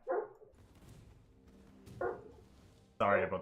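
A dog barks three separate times, with sharp, fairly loud barks spaced about a second apart over a low background murmur.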